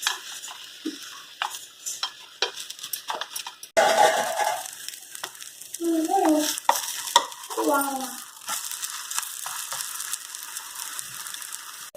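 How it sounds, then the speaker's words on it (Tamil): A bottle gourd adai dosa cooks on a pan with a soft, steady sizzle and scattered utensil clinks and scrapes. The sizzle grows louder and busier partway through, then settles again. "தோசை ஊற்றிட்டோங்க, வேகட்டும்."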